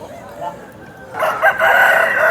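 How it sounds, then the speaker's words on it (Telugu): A rooster with black eyes and black legs at the Nallapadu rooster market, crowing loudly and close by in one sustained call during the second half, with market background noise. "నల్లకన్ను నల్లకాళ్ళు కలిగినటువంటి కోడిపుంజు"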